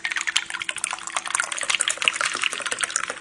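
Bloody Mary poured from a cocktail shaker through a strainer, a close, uneven splashing trickle of liquid with bursts of gurgling and faint clinks running throughout, no one talking.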